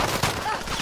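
Rapid gunfire in Call of Duty Warzone, a short dense burst of shots mixed with game noise, with faint talk underneath.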